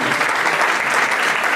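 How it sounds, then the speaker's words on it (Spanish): An audience at a talk presenting the magazine Revista Exedra gives a send-off round of dense, loud, sustained applause that fills the whole moment. "lo despedimos con un fuerte aplauso"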